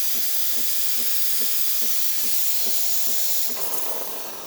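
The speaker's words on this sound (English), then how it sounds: "And now we can test the steam as well." A steady, forceful hiss of steam from a Breville Barista Pro espresso machine's steam wand, with a faint rhythmic pulsing underneath, tapering slightly at the end.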